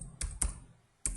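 Java code being typed on a computer keyboard: three crisp keystrokes close up, two in quick succession and then one after a short pause, with nothing else in the background.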